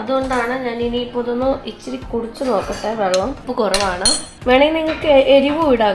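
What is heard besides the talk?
spoon stirring dal khichdi in a cooking pot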